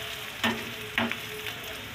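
Onions fry in a pan with a continuous soft sizzle, broken by two brief louder scrapes or stirs, and no one speaks.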